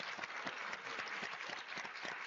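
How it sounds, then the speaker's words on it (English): An audience at a religious freedom summit dinner gives a round of applause, a dense, even wash of clapping heard from a distance at low level with no voices on top. "Let us give all of them a big round of applause."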